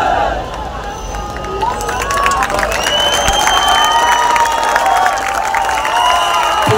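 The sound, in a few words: crowd cheering and clapping for Govinda pathak human pyramid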